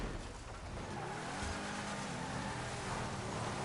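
An Audi R8 drifting in a GTA game, with a steady engine drone and smeared tire noise that carries on without a break through the whole stretch.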